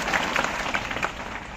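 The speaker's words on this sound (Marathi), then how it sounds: "एकदा जोरदार आई वडिलांसाठी टाळ्या वाजवून त्यांचा सत्कार आपण सर्वांनी केला पाहिजे" An audience applauds in honour of the parents at a Marathi public gathering: a brief burst of dense, steady clapping from many hands, fairly close and loud.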